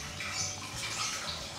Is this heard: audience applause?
no